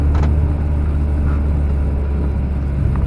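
Stick-shift car engine pulling in first gear while a learner drives, a steady loud low rumble inside the cabin with a slight rise in revs, no talking.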